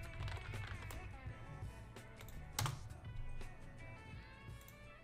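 Typing text on a computer keyboard, quick faint key clicks in an irregular patter, quiet and close.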